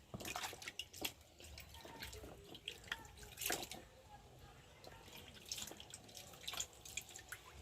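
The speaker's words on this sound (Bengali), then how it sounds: "তো দেখো আঙুরটা ধুয়ে নিয়েছি" Grapes being rinsed under water, with faint intermittent drips and splashes, quiet and close, with occasional soft sounds between them.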